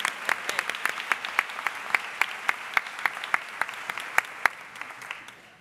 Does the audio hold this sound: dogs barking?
no